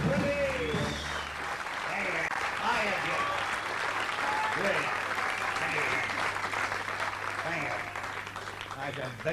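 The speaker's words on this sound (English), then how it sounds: "That's the biggest dose of claps I've had for a long time." A live audience at a comedy show applauds warmly, steady clapping with scattered cheers and voices mixed in that carries on for several seconds at a lively, even level.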